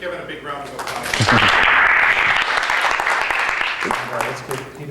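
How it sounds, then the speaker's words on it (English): Audience applause at a talk on the future of programming swells after a moment, holds strong for a few seconds, then fades as a voice starts speaking near the end. "let's give Kevin a big round of applause"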